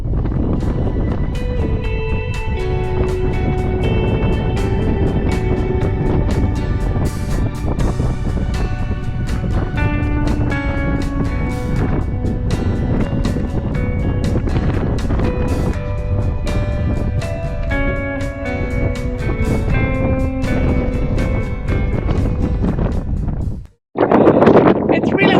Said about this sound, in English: Wind is, I think this is the worst of it at the moment.